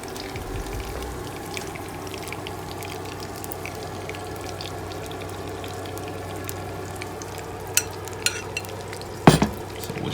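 Eggplant omelette (talong torta) frying steadily in a pan, a continuous soft sizzle with a few brief clinks and scrapes near the end, no talking.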